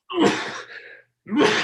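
During an Albany County Legislature meeting, one person sneezes sharply, up close and loud, followed by a brief pause and the start of a second burst.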